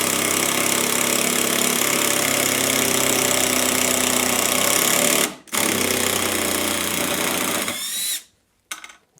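A DeWalt drill drives a long screw into wood through a non-impact torsion bit, a loud continuous grinding whir held for about five seconds, a short pause, then another long run before it stops.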